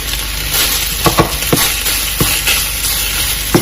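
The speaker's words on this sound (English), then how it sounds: "The rice is starting to fry up nicely" Fried rice sizzles in a hot pan over turned-up heat, a steady close hiss of frying broken by several sharp knocks and scrapes of stirring.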